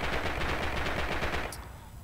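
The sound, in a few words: gunfire in a multiplayer shooter video game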